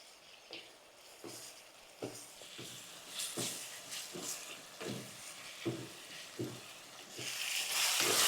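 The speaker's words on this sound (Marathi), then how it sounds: "गॅस कमी करून आपण ही पेस्ट पण अशी जरा एक ते दोन मिनटं परतवून घ्यायची" Ginger, garlic and coriander paste sautéed on low heat in a pan for paneer biryani, a gentle sizzle with regular spatula scrapes roughly every second, growing hissier toward the end.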